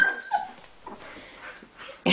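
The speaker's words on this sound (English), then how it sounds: "Somebody's growling." A small puppy among a litter makes soft whimpering, yipping vocal sounds, faint and intermittent, ending with a brief louder burst.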